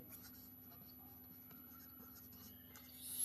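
A pen scratches across paper in a quiet room during a Hindi literature lesson, close and faint, with soft steady strokes and a faint hum underneath.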